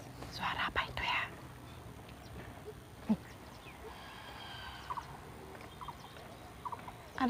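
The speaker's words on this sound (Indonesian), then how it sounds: "Ada suara burung." Bird calling from bushes beside a busy street, faint, thin chirps scattered through the clip, with a short burst of rustling and voices near the start over quiet background noise.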